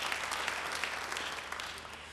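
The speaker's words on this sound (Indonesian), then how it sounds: "Beri tepuk tangan yang baik bagi Dia." Church congregation applauding during a sermon, a steady dense patter of many hands held at an even level for a couple of seconds, heard from a moderate distance.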